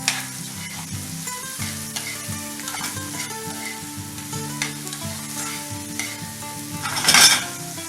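Shrimp cooking in butter and garlic on a stovetop over medium heat gives a continuous sizzle under sustained music, with a few utensil scrapes and a louder clatter near the end.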